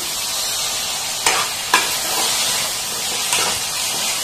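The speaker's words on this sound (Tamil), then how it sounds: "இதுவும் 1 நிமிஷம் நல்லா வதங்கட்டும்." Chopped tomato sautéing in a hot pan for mutton gravy, giving a steady, close sizzle broken by a few sharp scrapes and clinks of stirring, with no voices.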